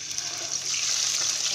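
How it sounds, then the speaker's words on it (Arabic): Chicken pieces going into hot oil in a pan, a dense close sizzle and crackle that stays steady and loud throughout, with no voices. "الزيت بتاعي كده سخن، هنزل بقطع الفراخ"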